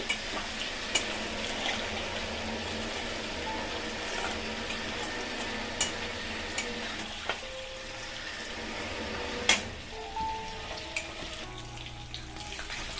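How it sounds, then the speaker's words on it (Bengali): Paneer frying in a pan, a steady broadband sizzle continuing throughout with a few brief clinks and scrapes from stirring, close and moderately loud with no talking. "পনিরটা দিয়ে আমি একটু ভেজে নেব"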